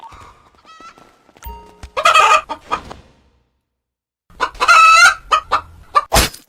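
Clucking chicken in a video game, sharp bursts of fowl calls in two loud clusters separated by a silent gap, with a few brief squawks at the end.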